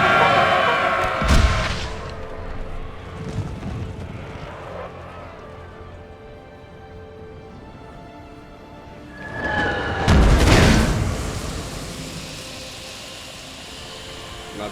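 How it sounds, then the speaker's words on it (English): Artillery firing canister in Napoleon: Total War with the American Civil War mod: two heavy booms roughly nine seconds apart, each rolling into a long rumbling decay, with distant battle noise between them. "Looks like they're firing canister."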